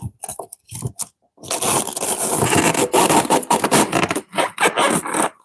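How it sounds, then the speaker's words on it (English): Styrofoam packaging scrapes and squeaks as a Consew CP206RL portable walking foot sewing machine is unboxed, a close, loud run of rubbing and crunching broken by short pauses. "Oh, I'm sorry about the styrofoam noise."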